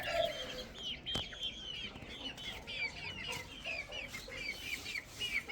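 Chickens and roosters on a poultry farm cluck in a steady stream of short, repeated calls, moderately close, with a sharp knock partway through and no talk over them.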